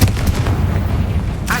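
A Confringo fire spell blasts in the Hogwarts Legacy video game, a loud, close, booming burst that rumbles on for over a second.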